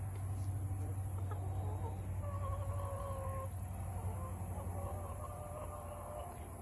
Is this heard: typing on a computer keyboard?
no